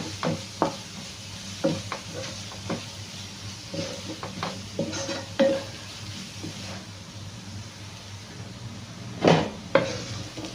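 Green chilies fry in a pan, a low sizzle under repeated scraping and clacking strokes of the stirring utensil, irregular and close, with a sharper knock near the end.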